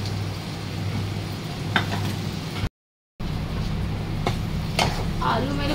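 Potatoes for poha sizzle and fry in a pan, a soft steady crackle close by with occasional stirring scrapes, interrupted by a short gap of silence.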